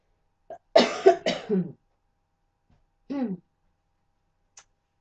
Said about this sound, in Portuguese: Desculpa esta tosse irritativa